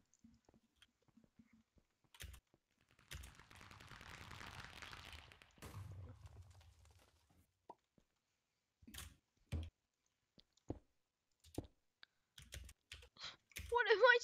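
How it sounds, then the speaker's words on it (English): Computer keyboard keys click in sparse, scattered taps and short clusters close to the microphone during a Minecraft stream, separated by quiet gaps, with a brief burst of louder game or background noise partway through. "I obviously can hear your click clacketing on your keyboard."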